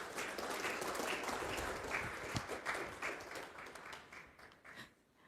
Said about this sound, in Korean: 다시 한번 우리 안현실 부총장님께 박수를 드리고 싶습니다